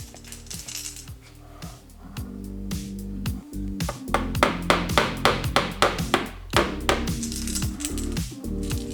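Repeated sharp metallic taps in an uneven rhythm, like a hammer striking a nail, close by with some music or hum underneath.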